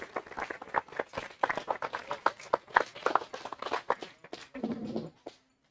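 Welcoming applause for a speaker at an astronomy talk in a bar: a small crowd's scattered, uneven clapping with a few louder hand strikes, fading out after several seconds.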